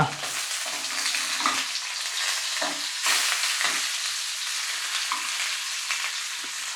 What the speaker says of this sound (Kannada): ಹಾಗೆಯೇ ತಿರುಗಿಸಿ ಇನ್ನೊಂದು ಸೈಡು ಸಹ ಬೇಯಿಸ್ಕೊಳ್ಳೋಣ